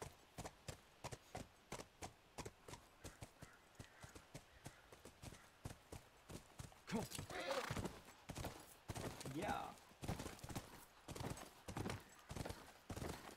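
Steady horse hooves clip-clop on the ground in The Last of Us video game, a continuous rhythmic trot heard up close, with a man briefly murmuring over it and louder rustling or impacts in the latter half.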